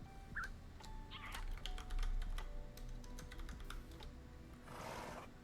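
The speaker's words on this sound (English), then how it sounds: "I know the keyboard can be a little loud" Typing on a computer keyboard, with rapid light clicks in an irregular stream, close and moderately loud over a steady low background hum, with a cat meowing briefly in the room.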